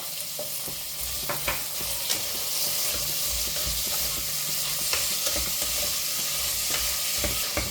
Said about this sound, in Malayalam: സവള ഒന്ന് വാടിയെടുക്കാം